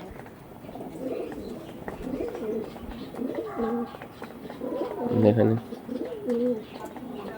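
A matched pair of purple panja pigeons coos in repeated, rolling phrases close by, swelling louder toward the end, while a voice speaks briefly.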